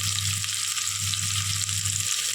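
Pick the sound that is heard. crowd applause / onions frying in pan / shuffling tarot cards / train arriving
onions frying in pan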